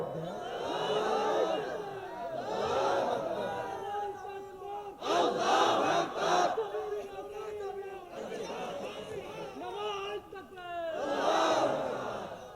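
A large crowd at an Islamic religious gathering in Bangladesh shouts the takbir in loud unison bursts, swelling and falling over several seconds with overlapping voices and cheering.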